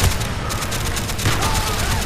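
A rapid burst of automatic gunfire in the Call of Duty Black Ops campaign, loud and continuous with overlapping shots, with a voice faintly underneath.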